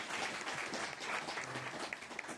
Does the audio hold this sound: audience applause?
yes